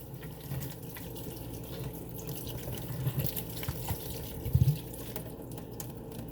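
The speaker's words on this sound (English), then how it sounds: "let's pour 1 more bottle of water in there." Water poured from a bottle into an indoor potted herb plant makes a steady, quiet trickling and gurgling, with a couple of louder splashy bursts toward the end.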